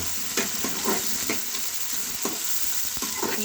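Sliced onions frying in a pan with ginger for an aloo matar gajar sabzi, a steady sizzle running throughout with soft scraping stirs knocking at irregular intervals, close and clear with no talking.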